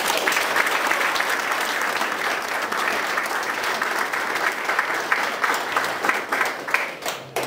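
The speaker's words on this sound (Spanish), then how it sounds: "también le damos su aplauso" An audience at a Virgen de Guadalupe patronal fiesta in Tamaulipas claps steadily throughout, dense and close, fading toward the end.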